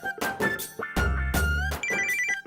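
A phone ringtone trills repeatedly after a call is placed, a clear electronic melodic ring with short bursts and brief gaps, loud and alone with no talk.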